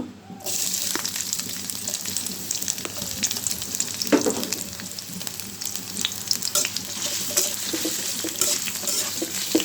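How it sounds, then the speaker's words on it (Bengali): Onion and green chilies fry in a pan with a loud, close, continuous crackling sizzle, joined by stirring scrapes and a brief clatter partway through, with no voices. "পেঁয়াজটা হালকা একটু ভেজে নিলাম"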